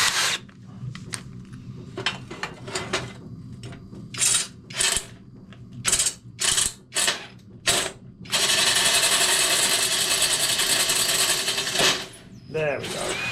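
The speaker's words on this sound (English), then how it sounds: "That drill's not very good." A power drill works on a rusty motorcycle exhaust, firing in short repeated bursts with clicking and ratcheting between them, then running steadily and loud for several seconds before stopping.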